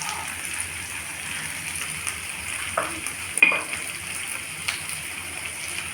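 Bottle gourd pieces sizzle with onions in a pan, a steady soft frying hiss with a few light stirring knocks partway through.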